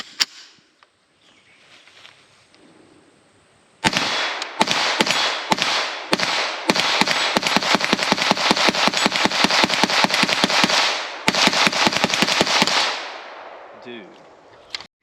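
An FN PS90 rifle fires Fiocchi 5.7mm rounds in a long rapid string of sharp shots, loud and close, after a quiet start with a few faint sounds, then trailing off near the end.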